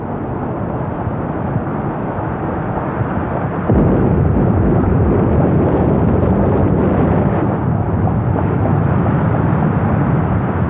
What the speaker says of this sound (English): turns tail and heads for home, pursued by the fire of Beattie's guns.